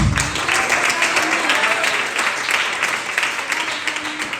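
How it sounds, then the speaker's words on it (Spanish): A church congregation claps together as an offering of praise to the Lord, a dense, steady wash of many hands sustained throughout, with voices calling out faintly beneath. "Regálale ofrenda de palmas al Señor."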